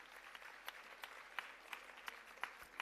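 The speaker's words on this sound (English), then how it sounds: "one more round of applause for the wonderful musicians" Applause for the musicians at a Bharatanatyam arangetram dance recital: faint, distant clapping from an audience, thin and uneven with scattered sharper claps standing out.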